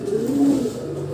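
Pigeons in a loft for training pigeons give one close, soft, rolling coo that swells and fades within about a second.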